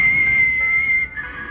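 A person attempts to whistle, producing one thin, steady, wavering tone for about a second before it falters and breaks off, close and fairly loud with a faint background hum.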